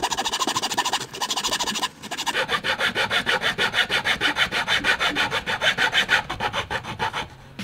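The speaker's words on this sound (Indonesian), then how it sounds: "langsung saja kita bisa potong menggunakan gergaji seperti ini" A hand saw cuts steadily through a wooden brush handle in quick, rhythmic back-and-forth strokes, loud and close, with a brief pause near the start.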